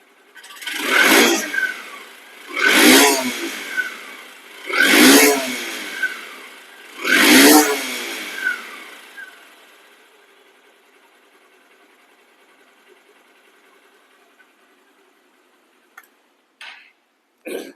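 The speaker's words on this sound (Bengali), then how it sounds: "প্রথম কিকই কিন্তু স্টার্ট হয়ে গেছে রানিং অবস্থা আছে দেখেন সাউন্ডটা দেখেন" A Honda SP Shine motorcycle runs just after a kick start, its engine rising in four loud, evenly spaced surges before dropping to a faint idle broken by a few sharp clicks.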